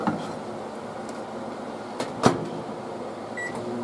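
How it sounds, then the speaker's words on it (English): A microwave oven hums steadily as it heats freeze-dried ramen, with a couple of sharp knocks partway through and a faint beep near the end. "put in the microwave for 3 to 5 minutes."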